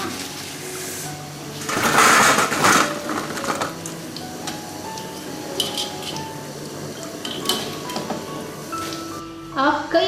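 Double-fried crispy potato fries, just lifted from the oil, rattle and clink against a metal strainer or dish in bursts of dry scraping, with a louder flurry early on and lighter clatter afterward.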